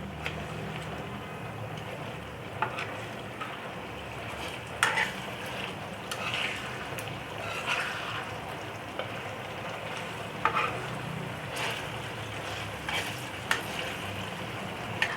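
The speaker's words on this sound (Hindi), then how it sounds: "अब ये देखिए, ये हमारा गोश्त फ्राई हो रहा है।" Mutton pieces frying on a tawa over high heat, a steady close sizzle with occasional scraping and clinks from stirring, continuous throughout with no talk.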